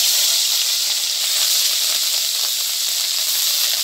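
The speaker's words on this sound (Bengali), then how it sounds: "এখন পেঁয়াজ রসুন বাটা একসাথে দিয়ে দেবো" Onion-garlic paste sizzling hard in hot oil with whole cumin seeds, a loud, steady, close hiss that runs on unbroken with no talking.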